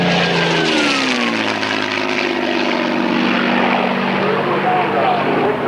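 A Supermarine Spitfire's piston engine and propeller roar at an airshow at La Ferté-Alais, a loud, continuous drone that shifts slightly in pitch as the plane passes, with voices faintly beneath it.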